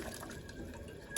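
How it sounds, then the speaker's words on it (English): A homemade slurry pours into a cooking cream mixture, giving a brief, soft liquid splash and trickle, close and quiet. "So I'll pour this slurry now into the mixture."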